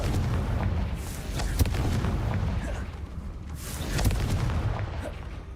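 Confringo spell explosions from Hogwarts Legacy land as two heavy booms about two seconds apart over a constant rumbling background.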